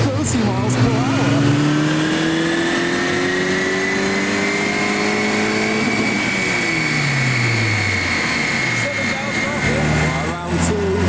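A boosted 1988 fan car accelerates hard down a drag strip, its loud engine roar and whining tones climbing steadily in pitch over several seconds before easing off near the end.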